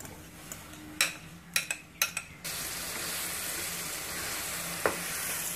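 Mashed banana sizzles in ghee in a pan, a steady bright frying hiss broken early on by a few sharp spoon clicks against the pan, then a continuous sizzle with one more tap near the end, no voices.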